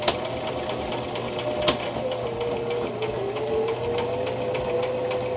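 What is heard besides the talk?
sewing machine stitching a pillow along a traced line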